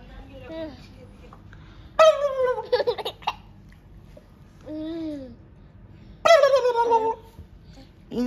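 A Hashtarkhan chicken, a breed with a thin voice, gives several high, wavering calls in three close bursts with short pauses between, over a quiet low hum.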